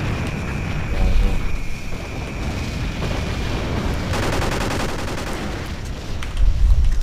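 AK rifle fire in a 5-on-5 competitive video game match, loud rapid bursts of automatic shots crackling in quick succession, with heavier blasts toward the end.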